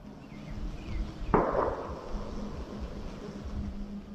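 A single sharp blast from a faraway explosion near a large pylon cracks out once and trails off into a long rumbling decay over steady wind and background hum.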